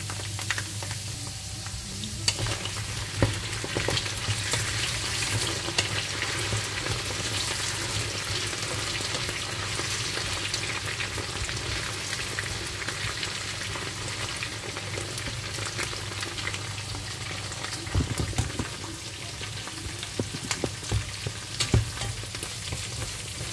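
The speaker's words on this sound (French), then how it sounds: "On laisse bien cuire les oignons." Onions frying in a pan with steady oil sizzle, broken by scraping stirs and a few sharper knocks against the pan, for about twenty seconds with no talk.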